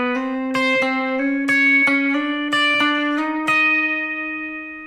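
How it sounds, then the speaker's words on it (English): Electric guitar playing an early rock octave lick, a run of bright, sustained doubled notes struck in a steady rhythm, loud and close with no talk. "What we're doing is we're just playing octaves,"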